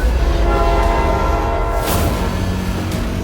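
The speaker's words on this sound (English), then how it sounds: "the recruits must first run at pace over the precarious tracks to infiltrate the accelerating train" Train rumbling along the tracks with heavy low roar and hum, a brief horn-like blare partway through, loud and close, no voices.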